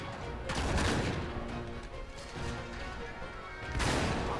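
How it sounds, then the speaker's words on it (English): A shotgun blasts during gunfight gameplay in Uncharted 3, with sharp broadband bursts near the start and again near the end over continuous, dense battle noise. "A shotgun to the head?"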